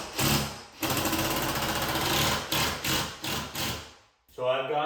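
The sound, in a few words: power drill driving a screw into a stud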